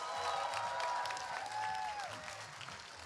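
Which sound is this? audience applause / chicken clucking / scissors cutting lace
audience applause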